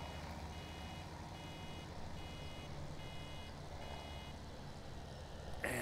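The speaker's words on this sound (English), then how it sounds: "Yeah, I know you're going to beep at me, baler, because you're almost full." A baler that is almost full in Farming Simulator 17 gives a faint, regular series of warning beeps, repeating evenly under a steady engine drone.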